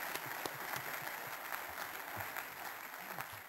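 Steady applause from a commencement ceremony audience fills the space, a dense wash of many hands clapping continuously at moderate distance with no break.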